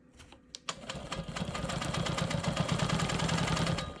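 Quilt Maker Pro 20 quilting machine stitching a Rainbow block, a steady close mechanical whirring and rapid needle clatter that starts after a couple of brief knocks and runs continuously to the end.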